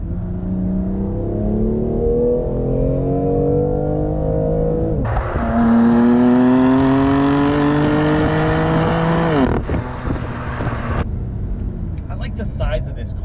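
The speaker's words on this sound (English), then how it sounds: "And then the exhaust takes over." A 2019 BMW M2 Competition accelerating hard, its exhaust note climbing through the revs in two loud pulls with a brief dip at a gear change, recorded from inside the car while someone talks intermittently.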